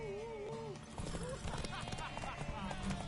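Horse hooves clip-clop in a PS4 video game, a quick run of hoofbeats alongside a whinny and game music, with voices talking over the scene.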